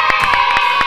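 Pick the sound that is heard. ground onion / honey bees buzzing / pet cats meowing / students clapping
students clapping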